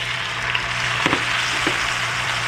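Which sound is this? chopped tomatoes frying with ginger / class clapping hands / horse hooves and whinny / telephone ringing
chopped tomatoes frying with ginger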